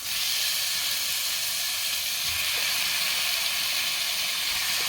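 Shrimp dropped into a hot pot with garlic, tomato and onion sizzles with a steady, loud hiss that fills the whole stretch without pause.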